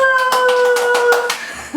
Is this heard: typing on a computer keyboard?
no